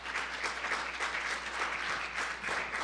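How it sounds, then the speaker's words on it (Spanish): A church congregation breaks into steady, dense applause, a continuous wash of many hands clapping together at moderate volume throughout, with no voices standing out. "Con un fuerte aplauso."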